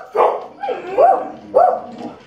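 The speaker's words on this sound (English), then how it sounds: "The dogs are going crazy." Dogs barking loudly and close by, about four sharp barks in quick succession.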